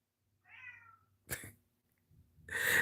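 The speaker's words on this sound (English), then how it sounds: "Y'all hear Kitty at the door?" A cat meowing at a door indoors, a few drawn-out meows separated by short silences, near and clear, with no talk.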